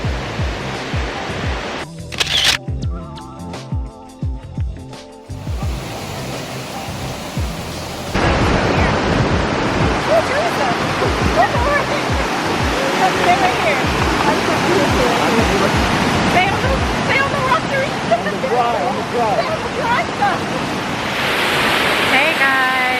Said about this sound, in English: we made it to the 94-foot waterfall